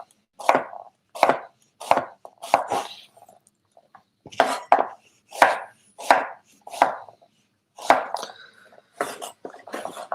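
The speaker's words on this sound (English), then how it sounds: "And then we cut them in small chunks." A knife chops vegetables such as cucumber or zucchini into small chunks on a board, giving a dozen or so sharp, close, evenly spaced thuds with a brief pause in the middle.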